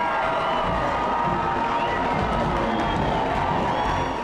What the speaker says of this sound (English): A cheering crowd full of anticipation and excitement welcomed them in the terminal